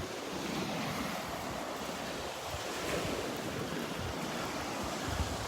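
Rough surf breaks along a beach shore at Delnor-Wiggins, a continuous wash of waves with a low rumble, overlaid by gusting wind buffeting the microphone, with no voices present.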